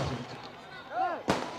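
A single sharp firecracker burst cracks out at a political rally in Coimbatore, loud and close, with a crowd murmur and a nearby voice before it.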